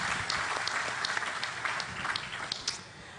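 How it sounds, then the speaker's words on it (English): Forum audience at a 2018 pensioners' stakeholders meeting claps steadily, a dense patter of many hands at moderate distance that fades toward the end. "A round of applause for her."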